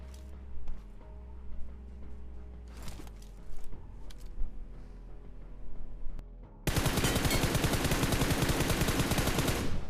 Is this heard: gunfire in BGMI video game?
yes